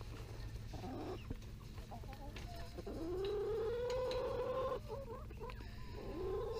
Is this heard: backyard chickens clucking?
yes